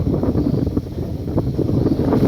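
Wind buffeting the microphone at the MacArthur monument in a continuous low rumble that gusts unevenly throughout, loud and close.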